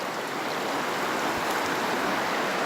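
Steady broadband rushing of flowing water, continuous and even throughout with no distinct splashes, heard close and alone without any voices.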